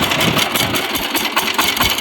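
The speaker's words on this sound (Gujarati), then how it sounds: "ટ્રેક્ટર ચાલુ છે" A tractor engine runs steadily during groundnut field work, a loud, close, continuous rumbling idle with a rough pulsing texture and no talking over it.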